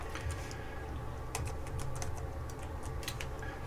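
Fast, close clicking of a computer keyboard as a command is typed, with bursts of keystrokes over a steady background hum and no talking.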